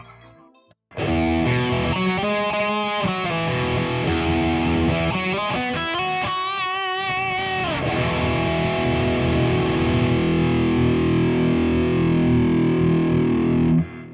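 A heavily distorted electric guitar, played through a Donner Hush-X Pro's built-in amp simulator with a Soldano cabinet impulse response like a 4x12, plays loud, sustained riffs and chords with thick, saturated, bass-heavy tone, ringing out continuously after a brief quiet start.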